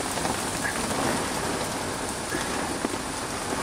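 Heavy rain pours in a dense, steady roar during a wildlife encounter in a storm, loud and close with constant drumming on surfaces and no pauses, without any voices.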